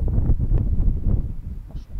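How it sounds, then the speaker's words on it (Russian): Strong mountain wind in Crimea buffets the microphone in loud, low rumbling gusts, steady and blustery, with a brief faint rustle near the end. "а ветер реально сносит"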